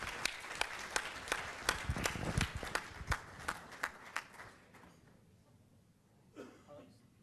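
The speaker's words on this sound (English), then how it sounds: "while we give Randy a round of applause" Scattered audience applause at a regional collaboration conference, a thin spread of distinct claps fading out after a few seconds, followed by a quiet room with a brief shuffle or movement near the end.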